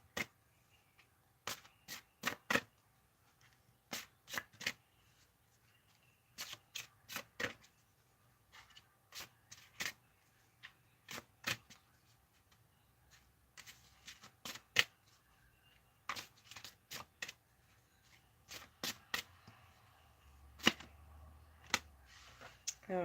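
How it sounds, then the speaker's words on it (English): A Winged Enchantment Oracle card deck being shuffled in repeated quick bursts of crisp riffling clicks, clustered in short groups with quiet gaps between, close and clear. "I'm going to pull a Winged Enchantment Oracle deck card for you guys"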